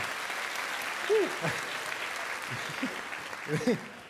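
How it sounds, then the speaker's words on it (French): Audience at a stand-up comedy show in Paris applauding, a continuous bed of clapping with scattered shouts and brief voices rising above it. "Applaudissez les Parisiens ce soir"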